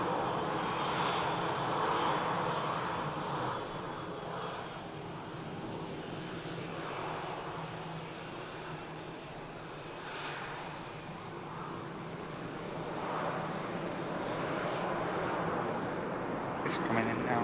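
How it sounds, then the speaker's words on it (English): A Cessna Citation jet on a long final approach at a busy airport, its steady engine roar rising and falling across the whole stretch, heard from some distance with people chatting over it. "It's coming in now. Well, Cessna Citation on a long final, just established now."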